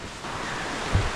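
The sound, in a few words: water streams flowing in rainy season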